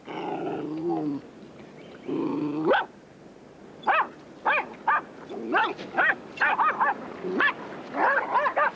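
Dogs outdoors at Cape Scott bark in short, sharp bursts, with a few longer growling yelps and then a rapid string of close barks of varied pitch, loud and without speech.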